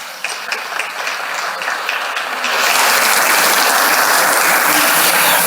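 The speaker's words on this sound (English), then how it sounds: "there's applause and ululation from the audience here" An audience at a design-thinking talk breaks into applause mixed with ululation, beginning as moderate clapping and then swelling abruptly into a loud, dense, continuous roar about halfway through.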